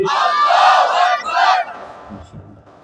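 A crowd at an Islamic religious gathering in Ghorashal shouts a takbir chant in response, two loud massed vocal bursts that fade into a quieter murmur.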